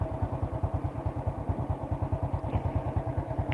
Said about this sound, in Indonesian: Sekarang udah oke suara mesin. Bisa Anda dengar sendiri.